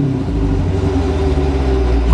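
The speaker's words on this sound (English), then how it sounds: "Right now I'm gonna rev it up a little bit" A 2017 Dodge Challenger 392 Hemi Scat Pack Shaker V8 runs close by, its deep exhaust note holding a steady, loud, rumbling drone through a light rev. No one talks.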